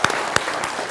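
A brief burst of loud applause from an audience at a Hindi political discussion event, with a couple of sharp claps standing out over the dense clapping.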